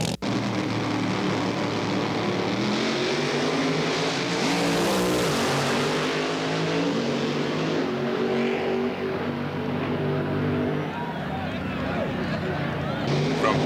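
Drag racing on a quarter-mile strip with Top Fuel dragsters and nitro-burning funny cars, a loud roaring engine blast that swells and fades as the cars pass, with a commentator talking over it.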